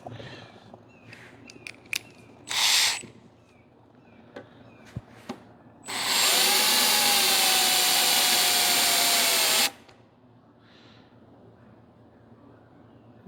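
A drill bit sharpener grinds a drill bit in one loud, steady, harsh burst of about four seconds with a thin whine. Shorter clicks and brief bursts come before it, and nobody talks.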